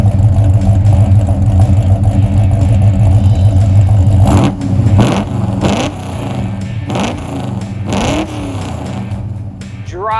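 A 1970 Dodge Charger Hemi V8 rumbles loudly at idle, then revs sharply several times in quick blips, close and powerful.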